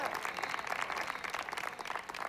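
Church congregation claps hands during a sermon, a moderately quiet but continuous patter of many hands, steady throughout with a slight fading toward the end.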